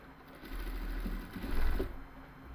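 A sewing machine stitches lace onto plain salwar fabric, a close, steady mechanical whirring drone that swells louder briefly near the middle before easing off, with no speech.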